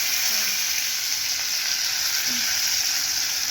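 Red chili powder, green chilies and tomato fry in hot oil in a pan for a sprouted moong and chickpea usal, giving a steady, loud, close sizzle throughout.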